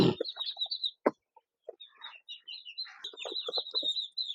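Crated goslings of the Chinese goose, packed for shipping, keep up a steady chorus of high, thin peeps and chirps, with a few sharp thumps of crate handling mixed in.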